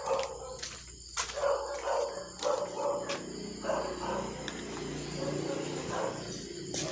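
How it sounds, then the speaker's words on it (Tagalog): A dog barks in a series of sharp, irregular barks at moderate distance outdoors at night during a bikers' ghost hunt, over a steady bed of crickets and insects, with faint voices nearby. "ayun nga yung aso guys"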